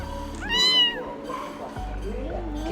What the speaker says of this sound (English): you could probably hear its meows are quite the meow